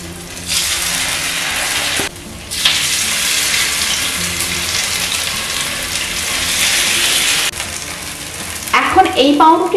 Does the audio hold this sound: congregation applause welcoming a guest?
no